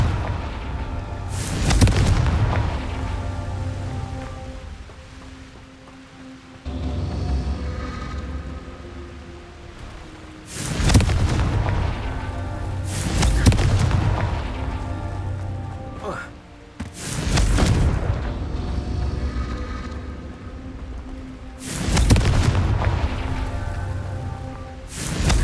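Confringo blasting spells in the Hogwarts Legacy video game set off a series of heavy booming explosions, about five of them spaced several seconds apart, each followed by a rumbling, crackling tail.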